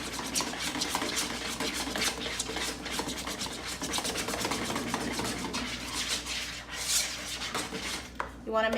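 Eggs and mashed bananas being stirred together in a bowl for banana nut bread batter, a steady, continuous wet scraping and swishing that runs throughout, close up, with a brief clatter near the end.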